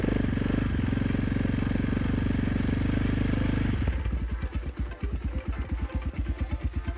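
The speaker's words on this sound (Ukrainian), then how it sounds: "Запускаємо мотор та даємо попрацювати на холостом приблизно 5-7 хвилин." A Geon Terrax 250 motorcycle engine with a 166FMM motor idles steadily and loud, then shifts to a choppier, pulsing rumble with rhythmic low thumps for the rest of the clip.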